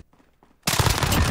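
After a short quiet moment, a loud burst of rapid automatic gunfire erupts from Call of Duty Modern Warfare gameplay and continues densely until the end.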